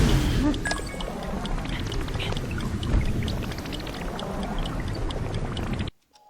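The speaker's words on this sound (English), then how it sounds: "The sound of using the recall ability" The recall ability in Tears of the Kingdom plays as a continuous watery, swirling rush with scattered faint chimes and clinks, holding steady before cutting off abruptly into silence.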